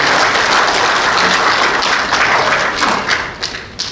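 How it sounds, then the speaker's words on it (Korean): Dense, loud clapping fills a conference hall at the Seoul Press Center during an economic research institute's founding seminar, holding strong before thinning out near the end. "김영식 회장님께 한번 박수 한번 보내드릴까요?"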